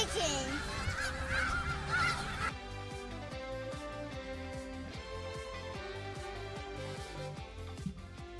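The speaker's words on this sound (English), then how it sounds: "Look at all those chickens!" Cartoonish fowl squawks and honks from the Umamusume Pretty Derby video game burst out for about two seconds, then give way to steady, beat-driven game music.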